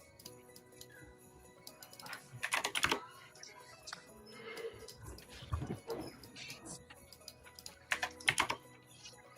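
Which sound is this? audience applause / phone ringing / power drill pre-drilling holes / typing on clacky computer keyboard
typing on clacky computer keyboard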